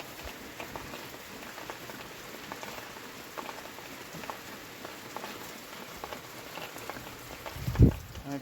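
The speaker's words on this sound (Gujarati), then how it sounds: "વરસાદ જો રહેતો નથી, જે ચાલુ જ છે" Steady rain falling, a soft, even patter and hiss heard throughout at low level, with a brief rustle or bump near the end.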